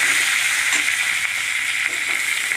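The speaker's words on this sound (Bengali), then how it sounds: "একটা তেজপাতা দিয়ে দিয়েছি, গোটা শুকনো লঙ্কা দিয়ে দিলাম। একটু নেড়ে চেড়ে নেব।" A bay leaf and whole dried chilies fry in hot oil while being stirred, giving a dense, steady sizzle that runs the whole time, close and loud, with no voices.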